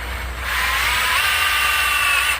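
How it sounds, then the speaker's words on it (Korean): A power drill bores a hole through a greenhouse cooling pad, giving one continuous high whine close by that rises slightly as it bites and cuts off abruptly after about two seconds. "여기 이 패드에 패드에 구멍을 한번"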